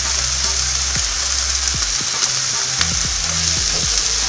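A sweet and sour stir fry sizzles loudly in a pan, continuous hiss with occasional spatula scrapes as it is mixed.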